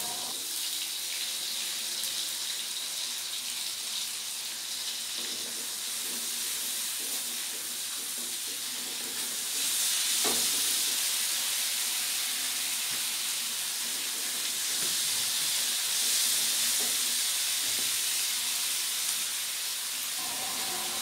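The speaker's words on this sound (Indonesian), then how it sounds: "Sekarang aku tumis bumbu-bumbunya ya" Spice paste stir-fried in a pan for a home-style vegetable dish gives a loud, steady sizzling hiss that runs throughout, with faint scraping now and then.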